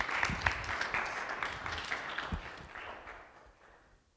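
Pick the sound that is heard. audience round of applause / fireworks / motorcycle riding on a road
audience round of applause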